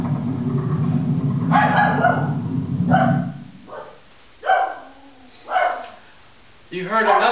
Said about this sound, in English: You heard another dog bark.